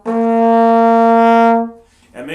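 A trombone holds a steady, loud sustained note for about a second and a half with strong, clean harmonics, then releases into quiet; the note is an F played in first position.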